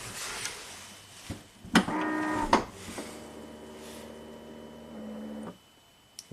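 A Buick Enclave liftgate latch, closed by hand with its assist motor not working, pulls itself in and cinches, giving a short burst of whirring motor hum followed by a longer steady mechanical drone that stops abruptly.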